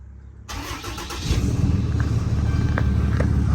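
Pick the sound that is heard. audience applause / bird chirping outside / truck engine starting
truck engine starting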